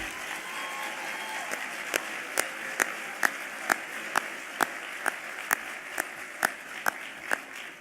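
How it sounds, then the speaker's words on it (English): Luncheon audience at an awards event applauding a choir: a steady wash of applause runs throughout, with a few sharp, evenly spaced individual claps standing out over the crowd noise. "How about another round of applause for the Cardinal Sheehan Choir?"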